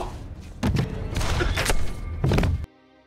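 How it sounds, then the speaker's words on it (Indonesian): Gunshots ring out in a tense action-film scene: a few sharp, loud broadband bursts close together, with a dull thump after them, then a sudden cut to near silence. "Lazarus menembak istri Frank"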